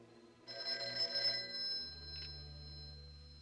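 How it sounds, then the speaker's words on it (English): An old-fashioned telephone bell rings in a 1949 film scene, a bright metallic trill lasting about a second, followed by a lower sustained tone. The whole thing sounds fairly quiet and stands alone without speech. "I don't think the telephone bell is working. Will you test it?"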